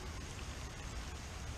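Rain falling outdoors onto a boat, a faint, even hiss of many drops with no talk.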